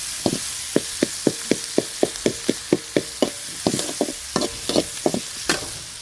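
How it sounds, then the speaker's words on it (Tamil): Village-style greens sautéing in a pan while being stirred: a steady series of sharp, evenly spaced scraping taps from the spatula over a soft sizzle, close and clear, with no speech. "இங்கே பாருங்கள் எப்படி நல்லா வதங்கிட்டு இருக்குங்க."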